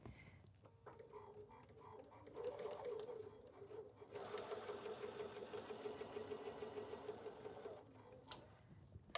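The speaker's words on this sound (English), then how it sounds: "I'm going to start sewing from this point to this point." A sewing machine stitches a seam through quilt fabric, its quiet whirring chatter starting, running steadily for several seconds, then stopping, faint and close.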